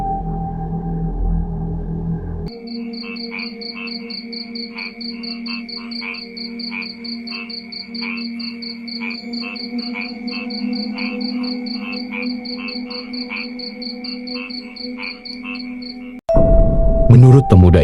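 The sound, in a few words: frogs croaking in a rice field at night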